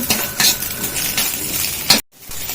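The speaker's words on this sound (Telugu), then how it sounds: "ఇంకా మంచిగా ఫ్రై అయిపోవాలి ఆయిల్లో ఇవి" Onions frying in oil in a pan, a continuous close sizzle broken by a few scrapes and clinks of a utensil, ending in sudden silence.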